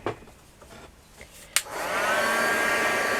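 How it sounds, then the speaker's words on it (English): A heat gun dries crackle medium paint. A few faint handling taps and a click come first, then the tool switches on into a loud, steady blowing whine that holds close without talking. "I'm just going to dry that off using my heat gun"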